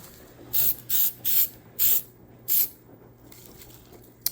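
Rust converter is sprayed from an aerosol can onto a 1996 Jeep Cherokee XJ in several short, sharp hissing bursts, each about a third of a second long, followed by quieter, fainter sprays.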